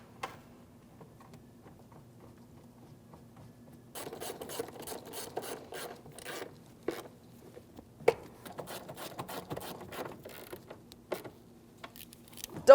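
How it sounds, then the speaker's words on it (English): A hand tool snugs up the fuel pump mounting hardware on a 2003-2008 Toyota Matrix 1.8L, heard as quiet bursts of ratcheting clicks and scraping that start after a silent stretch and run on and off to the end. "After that, we're going to snug them up and we're using a hand tool"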